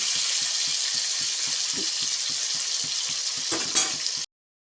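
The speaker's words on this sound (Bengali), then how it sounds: "টমেটোটা এপিট ওপিট করে একটু জাস্ট ভেজে নেব।" Tomatoes fry in a pan alongside already-fried long beans for a mixed winter vegetable curry, giving a steady close hiss with a regular tapping of a utensil and a brief louder stir near the end before it cuts off.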